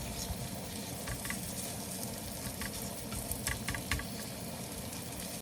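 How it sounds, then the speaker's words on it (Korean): Kimchi pancake batter pressed into an oiled pan over medium heat fries with a steady, even sizzle and crackle, faint and continuous, with scattered small pops and no voices. "반죽을 떠서 팬 크기에 맞게 꾹꾹 눌러주면서 팬을 채운다는 느낌으로 반죽을 깔아줄게요."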